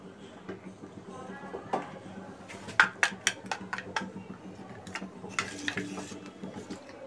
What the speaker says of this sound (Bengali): এবার এটাকে গুলবো।